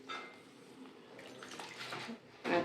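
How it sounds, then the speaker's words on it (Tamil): Water poured into a bowl of ground coconut paste for a masala, a soft trickling and splashing close by in a home kitchen, ending with a brief louder burst of pouring. "இதில் கொஞ்சம் தண்ணியை ஊற்றி"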